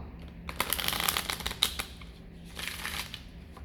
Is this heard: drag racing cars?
no